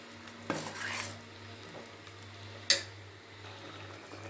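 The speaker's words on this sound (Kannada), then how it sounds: "ಒಂದೊಳ್ಳೆ ಮಿಕ್ಸ್ ಕೊಡೋಣ" Sizzling ground masala paste for ridge gourd egg sambar is stirred in a pan, with a soft ongoing fry, a scraping stir early on and a sharp metallic clink of spoon on pan later, and no voices.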